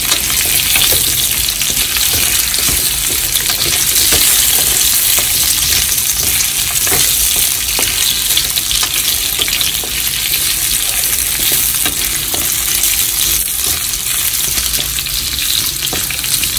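Onions, potatoes and carrots frying in a pan for kaldereta, a loud, steady crackling sizzle with occasional stirring clatter, continuous and close throughout without talk.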